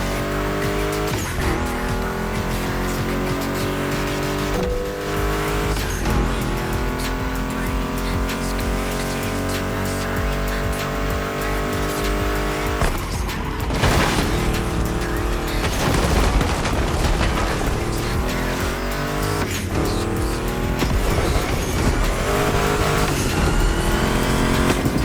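Roaring muscle car engines, including a Mustang GT, rev and race continuously in The Crew Motorfest game, with tire squeals and skids, gear shifts rising and falling, loud and close throughout.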